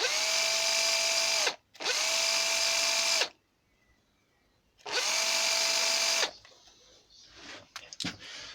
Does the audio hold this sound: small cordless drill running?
yes